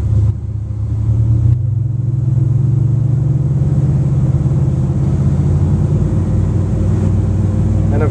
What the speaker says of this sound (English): And let's rev up the engines.